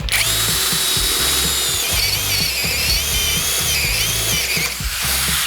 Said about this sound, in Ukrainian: Тест, 20 перове сверло, друга швидкість.